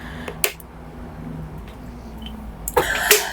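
Two bursts of coughing, one brief near the start and a harsher, longer fit near the end, close to the microphone over low background hum.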